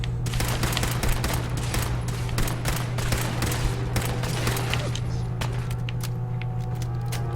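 Rapid weapon fire in Fallout 4: a dense, sustained stream of gunshots with sharp repeated cracks over a steady low hum.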